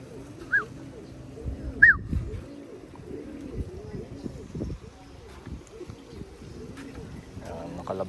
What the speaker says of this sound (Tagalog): Bali busog na yan mga kalapatids.